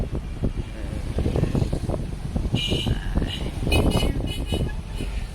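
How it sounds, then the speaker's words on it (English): Street traffic drones steadily near the court complex in Accra Central, with passing engine rumble and a few short horn toots, continuous and moderately close. "And this is the traffic."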